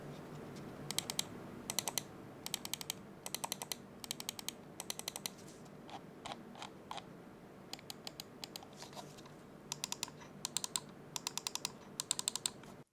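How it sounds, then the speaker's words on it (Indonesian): Quick bursts of small plastic computer mouse button clicks from a VXE R1 Pro, close and crisp, repeated in rapid clusters over a quiet background hum. "gue akan siapin click testnya juga, sound testnya untuk kalian"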